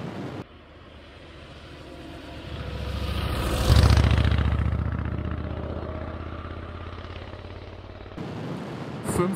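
Kawasaki VN 1600 Meanstreak cruiser with a large-displacement engine running, a deep throbbing rumble that swells to a loud peak as it pulls away, then settles into a steady drone before cutting off.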